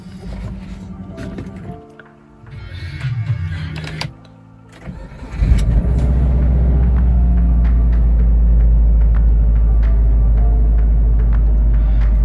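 Subaru Forester SG XT with an EJ205 engine cranks briefly after some clicks and shuffling, then catches and settles into a loud, steady idle rumble that holds to the end.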